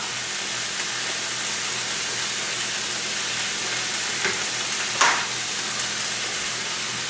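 Eel fish frying Indian style in a pan gives a steady, dense sizzle throughout, close and even, with a brief louder crackle near the end and no talking.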